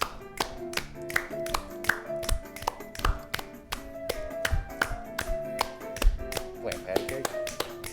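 Rhythmic handclaps keep time with a show's theme song, sharp regular beats over the music, with voices talking underneath now and then.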